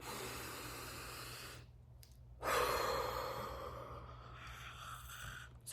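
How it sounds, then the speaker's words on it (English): A person takes a long, deep breath, with a slow breathy exhale, a short gap, then a strong, airy inhale and release, close and fairly quiet. "I need to take a really deep breath."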